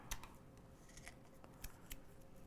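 Scissors trimming a sheet of toner printer transfer material, giving a few quick, quiet snips close by against faint background noise, no talking.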